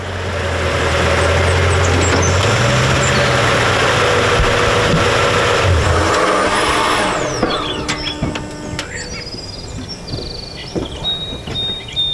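A truck engine runs loud and steady for several seconds with a low drone that rises as it revs, then falls away to a quieter idle mixed with faint birdsong and scattered outdoor noises.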